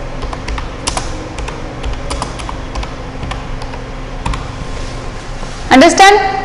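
Computer keyboard typing, scattered sharp key clicks in irregular bursts, close and clear, with someone speaking briefly near the end.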